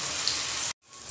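Arbi leaf tikkis fry in hot mustard oil in a kadai, a close, bright crackling hiss that cuts out abruptly for a moment before quieter sizzling resumes.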